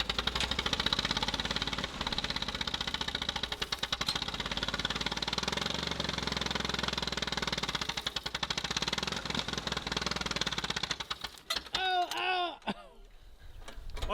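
A 1949 Allis Chalmers WD farm tractor with a rusty cylinder runs with a loud, steady rapid chugging and knocking close by, then tails off near the end as speech comes in over it.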